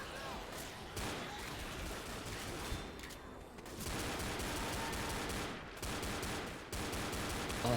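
Sustained video game gunfire, dense overlapping shots rolling on loud and close with a few brief lulls between bursts.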